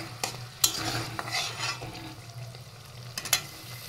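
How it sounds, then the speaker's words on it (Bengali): Ground masala for mutton kosha stir-fried in a pan after a splash of rinse water, a low steady sizzle broken by several sharp scrapes and clinks of a spatula against metal, close and without voices. "তো ভালোভাবে এই মশলাটাও এবার কষিয়ে নিতে হবে।"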